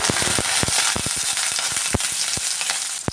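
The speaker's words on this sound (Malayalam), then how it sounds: "ഇനി കടി ഇട്ട് കൊടുക്കാമേ ഇനി ഈ വറ്റൽമുളക് ഇട്ട് കൊടുക്കാം" Mustard seeds and dried red chillies tempering in hot coconut oil for a papadam curry, a steady loud sizzle with sharp irregular pops and crackles throughout.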